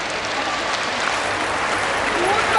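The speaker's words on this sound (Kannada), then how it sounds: "ನೀವೆಲ್ಲರೂ ಜೋರಾಗಿ ಚಪ್ಪಾಳೆ ಮೂಲಕ ಒಂದು ಚಪ್ಪಾಳೆಯನ್ನು ಕೊಡಬೇಕೀಗ" An audience claps steadily and continuously at an outdoor Hanuman Chalisa recitation gathering, a dense wash of hands that swells slightly toward the end.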